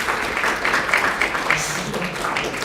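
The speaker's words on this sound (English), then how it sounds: "Round of applause," A lecture audience at a university programming class gives a short burst of scattered applause. The clapping is moderately loud and brief.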